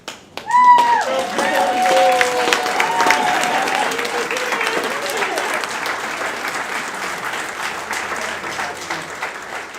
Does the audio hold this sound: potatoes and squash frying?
no